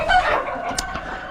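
A chicken on a small farm raising chicks clucks nearby, giving a short loud burst of squawky clucks.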